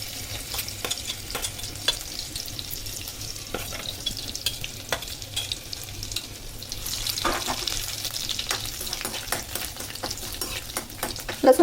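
Chopped garlic fries in hot oil on a low gas flame for chowmein, giving a steady soft sizzle with intermittent scraping stirs and clicks of a utensil against the pan.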